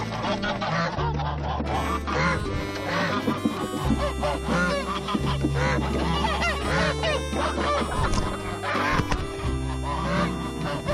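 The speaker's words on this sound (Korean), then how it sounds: "닭들이 식사하는데 거위들이 왔다." Geese honking loudly and repeatedly among a flock of chickens feeding in a farmyard pen, harsh overlapping calls in irregular bursts, close and continuous with no talk.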